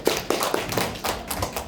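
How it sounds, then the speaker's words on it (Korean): An audience claps briefly at a live talk. A few hand claps sound close and sparse, in a quick, uneven rhythm that lasts under two seconds. "박수 한번 주세요."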